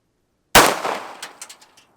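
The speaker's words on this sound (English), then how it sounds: "next I'm gonna shoot the 380 ACP out of the Sig Sauer P290" A single sharp gunshot from a Sig Sauer P290 firing .380 ACP into a block of solid ice, close and loud, followed by a decaying ring with several quick clattering ice fragments landing afterward.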